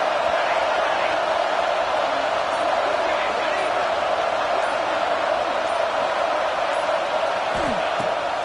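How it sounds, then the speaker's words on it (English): Football stadium crowd roaring steadily and loudly in a packed venue, a dense sustained cheer with no pauses, urging on the home defense. "Listen to this crowd just shaking the girders of this place"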